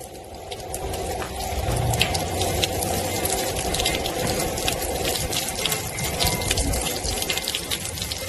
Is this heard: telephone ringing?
no